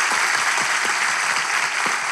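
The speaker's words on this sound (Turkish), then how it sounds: "Coşkun alkış!" A studio audience at a talk show applauds energetically, a loud, close, continuous burst of clapping with no break.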